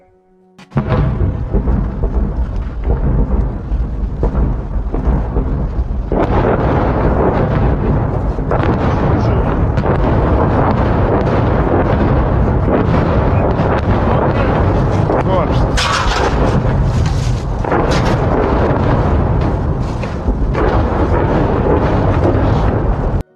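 Heavy booming artillery cannonade rumbles and blasts roll through a dense, noisy background in Bakhmut, with people talking intermittently over the din.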